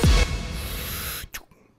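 A song closes with a reversed reverb echo effect, a dense wash of sound that swells and then cuts out abruptly, leaving a short echoing tail and near silence.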